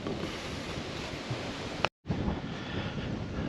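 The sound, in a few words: wind blowing against the microphone outdoors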